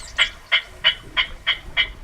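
Recorded territorial call of a Yuma clapper rail played back in Colorado River Delta marshland: a series of seven sharp, harsh clacking notes repeated at a steady rhythm, each loud and clear against a quiet background.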